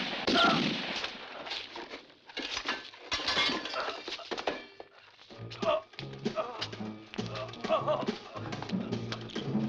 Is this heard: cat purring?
no